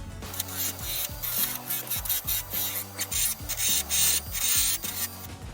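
Rust being dug and scraped out of the quarter panel of a 2003 Subaru WRX, heard as continuous close harsh scraping and rubbing strokes in a quick repeating rhythm, with a droning tone underneath.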